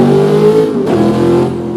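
A ZR-1 Corvette accelerates hard, its loud, steady engine roar filling the moment, with a brief tire chirp cutting in around the middle.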